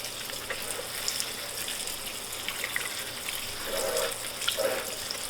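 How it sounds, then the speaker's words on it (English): Lukewarm tap water pours into a potted hoya plant until the pot fills, a soft steady trickle with faint splashing and gurgles, quiet and close. "I water until the pot is full with water, and then I let it absorb, drain out, and then water again."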